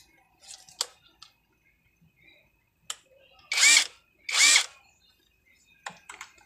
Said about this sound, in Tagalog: Sa pagsasara nito, lalo na yung gumagamit ng cordless impact, siguraduhin nyo na nakalapat yan para hindi masira yung inyong nut.